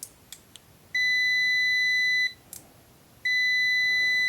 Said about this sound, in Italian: Vediamo subito il cicalino.